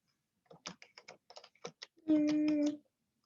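Quick keystrokes tapped on a computer keyboard while setting up Scratch on a Raspberry Pi, a burst of close, uneven clicks ending in a short sustained tone.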